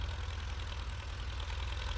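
A blue Ford 6610 farm tractor engine idles steadily on wet, freshly rained-on ground, a continuous low diesel rumble with no breaks and no voices.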